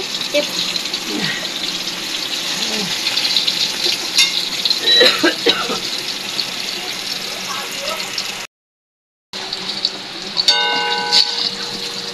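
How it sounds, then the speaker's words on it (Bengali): Pointed gourd (potol) sizzles and crackles steadily in a frying pan at close range, with a short gap midway and people talking over the cooking. "পটল ভাজা হয়ে গেছে,"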